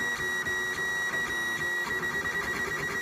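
LulzBot Mini 3D printer running its first print, a close, continuous stepper-motor whine with a steady high tone and rhythmic pulsing movements, no voices.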